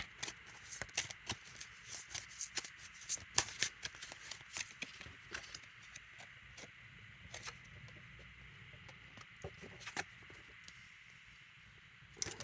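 A deck of cards is shuffled by hand to draw a card during a reading, giving quick papery riffles and soft taps in uneven bursts, close and fairly quiet, with no talking.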